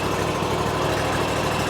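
A SCAG Cheetah 2 zero-turn mower engine idles just after starting, a loud, close, steady rumbling drone with even vibration and no change in pitch.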